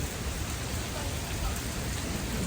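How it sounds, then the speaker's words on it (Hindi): Heavy rain pours down steadily on a rainy day, a dense continuous hiss and patter of falling water that stays loud and even throughout, with no voices. "लेकिन ये बारिश हो रही है।"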